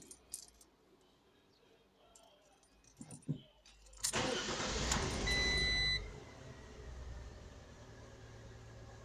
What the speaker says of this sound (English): And now I can start the engine.